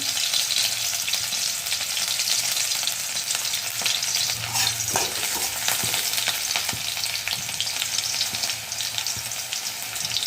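Green chillies and garlic fry in leftover rice in a pan, a steady dense sizzle with occasional stirring scrapes, close and continuous with no talk.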